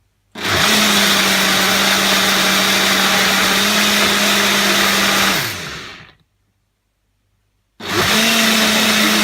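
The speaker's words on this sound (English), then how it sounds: "So I'm going to put the blade back on, I'm going to blend this" A countertop blender whirs loudly at a steady pitch, blending rice and coconut protein pancake batter for about five seconds, winding down, then starting up again after a brief silence.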